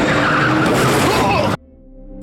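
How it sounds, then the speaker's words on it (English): A car skids with screeching tires and bumps into someone at a traffic light in a film scene, a loud, dense rush that cuts off abruptly, leaving a quiet tail. "Butch wipes the gun, leaves the apartment, drives a short distance, and bumps into Marcellus Wallace at a traffic light."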